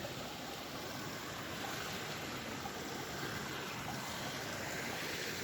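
Cold spring water straight from the aquifer runs steadily at a gathering site near Taos, New Mexico, a close, even hiss and gurgle of flow with no voices over it.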